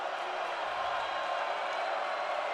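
A college basketball arena crowd during free throws in a Michigan versus Rutgers game, a steady loud wash of crowd noise holding evenly throughout, with a commentator's voice faintly underneath.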